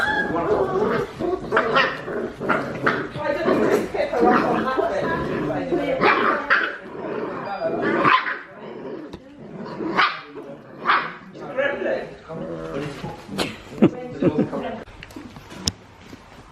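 A puppy in its first days home barks and yips in short repeated bursts with a few whimpers, close and loud, alongside a person talking.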